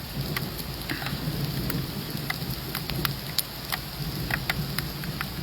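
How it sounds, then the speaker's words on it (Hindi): Heavy rain pours steadily over Tangmarg and Gulmarg in Baramulla district, Kashmir, a dense, continuous hiss with sharp drop impacts and a low rumble beneath, heard alone without voices. "अब धीरे धीरे बारिश थोड़ा कम होने लगी, बट थोड़ा सा बारिश हुई"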